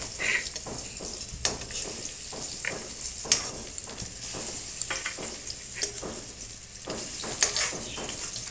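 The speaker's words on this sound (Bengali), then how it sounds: "তারপর তেলটা গরম হয়ে গেছে, দিয়ে দেবো ডালনাগুলো। তো এটা লাল লাল করে ভেজে তুলে নিয়েছি।" Pieces of dhoka, a Bengali lentil cake, fry in hot oil in a wok with a steady close sizzle and scattered crackling pops, no talking.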